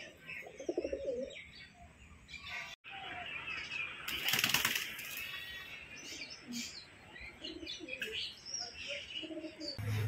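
Pigeons near their pigeon house at dusk, with a loud burst of wing flapping midway through, set among soft cooing and scattered chirps nearby.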